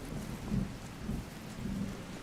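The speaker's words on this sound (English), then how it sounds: "It was a loud storm." A thunderstorm in the Skyrim video game: steady rain hiss with low rolling thunder rumbles swelling and fading several times, fairly quiet overall.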